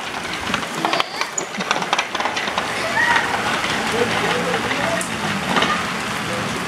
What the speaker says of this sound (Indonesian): Hujannya nambah gede nih, sobat.